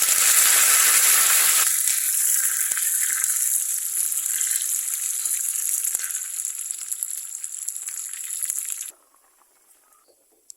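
Curry leaves crackle and sizzle loudly in hot coconut oil with mustard seeds, shallots and dried red chillies for a brinjal curry tempering. The sizzle stays steady and close, then cuts off abruptly near the end.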